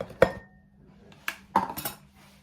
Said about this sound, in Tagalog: Shred the chicken, the leftover chicken